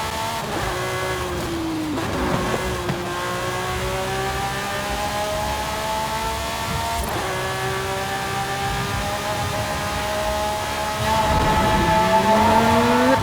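Lamborghini Sián Roadster engine in Forza Horizon 5, a steady loud drone with rising and falling pitch as the car accelerates and shifts, holding close and continuous throughout with no talk.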